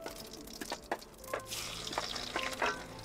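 Garlic tossed into hot oil with cumin for a raw banana curry sizzles in short bursts, with faint stirring and clinks in a quiet home kitchen.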